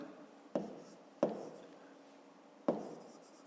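Numbers are written by hand on paper in a math exercise, with three short, crisp pen or chalk strokes standing out against a quiet room.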